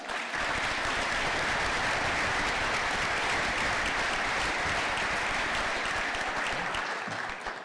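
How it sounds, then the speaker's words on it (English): A convention business session audience bursts into sustained applause, dense and steady throughout, with broad-band clapping filling the room from start to finish. "Let's give them a round of applause."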